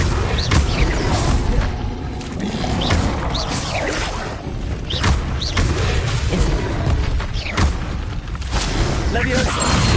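Incendio fire spell cast during Hogwarts Legacy combat, repeated booming bursts and whooshing impacts in a busy, loud mix, with a voice talking over the action.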